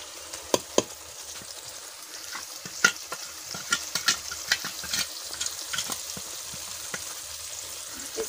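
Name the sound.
spices frying with onions for jackfruit curry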